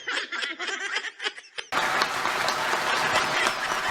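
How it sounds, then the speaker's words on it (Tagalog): Talk and laughter at first, then loud audience applause breaks in abruptly and continues as a dense, steady wall of clapping to the end. "Grabing palakpak yun, ha?"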